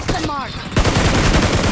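Gunfire in a mobile shooter video game: a short pause with faint chirping is followed by a loud, rapid string of close shots, a continuous rattling burst lasting over a second.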